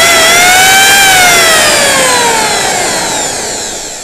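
Held right at the microphone, a 900-watt BN5 electric hand planer spins with a loud, siren-like whine that swells briefly and then gradually falls in pitch as the motor coasts down, with no voices.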